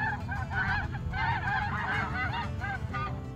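A goose honks repeatedly in quick, rhythmic bursts, played back by a voice-assistant animal quiz game, loud and clear over a steady low background hum with no talking.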